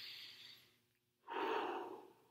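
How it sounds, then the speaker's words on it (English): A deep breath taken during a guided muscle relaxation exercise: a soft inhale, a brief pause, then a longer, louder exhale, close and alone with no talking. "let's take another deep breath"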